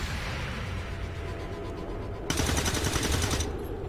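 Rapid bursts of gunfire from XCOM 2: War of the Chosen, a dense rattling volley that swells louder partway through over a steady wash of battle noise, with no voices.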